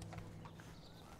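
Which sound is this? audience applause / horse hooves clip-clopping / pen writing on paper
horse hooves clip-clopping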